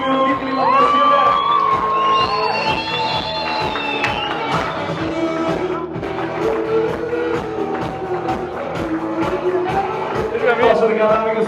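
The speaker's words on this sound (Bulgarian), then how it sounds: "радвам се, че аплодисментите са толкова силни" Wedding guests applaud and cheer loudly for the newlyweds' parents, a dense, continuous crowd roar of clapping, whoops and shouts that stays strong throughout, with music-like tones mixed in.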